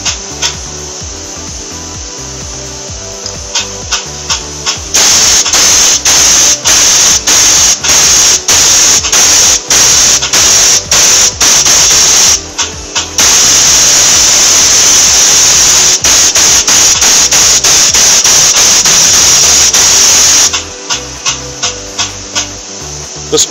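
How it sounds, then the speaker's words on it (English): A power pistol flushes solvent through the fluid passageway of an E800A spray gun, giving loud bursts of pressurized spray with short gaps, then a long continuous blast. "Power flush the fluid passageway completely with the power pistol."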